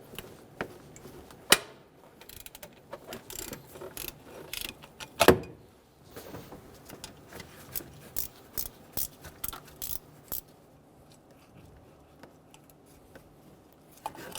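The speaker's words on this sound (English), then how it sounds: "Using a 14mm socket, remove the bolt for the idler pulley." A 14mm socket wrench works loose the idler pulley bolt on a 2005-2015 Toyota Tacoma 2.7L four-cylinder, giving quiet, irregular ratcheting clicks and metallic ticks, with a couple of sharper clacks, close by and without talk.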